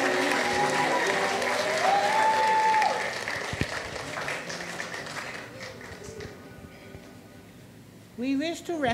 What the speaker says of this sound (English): Let us offer a round of applause for all of our honorees this morning.